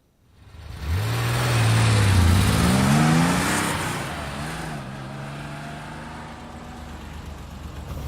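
A 2019 Porsche Cayenne accelerates from close inside the cabin, its engine note climbing and then dropping as it shifts through gears, leaving a steady smooth cruising drone.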